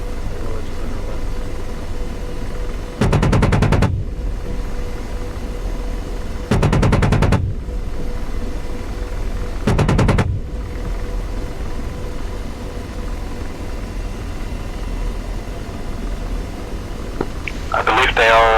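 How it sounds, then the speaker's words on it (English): AH-64D Apache cannon in the DCS flight simulator firing three short, loud bursts a few seconds apart over steady rotor and engine drone, with a voice briefly at the very end. "I'll try to do something with the cannon"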